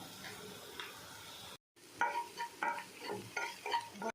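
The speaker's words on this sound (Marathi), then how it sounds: "आता मिक्स करून घेऊयात." Spoon stirring a potato mixture with turmeric and salt in a pan for Mumbai-style vada pav, a soft steady scraping with a faint sizzle, then a short gap and a series of louder, rhythmic stirring strokes.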